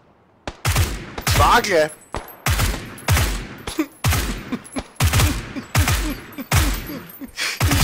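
Rapid bursts of gunfire from the PUBG video game crackle loud and close in repeated volleys, while excited voices shout over the shots.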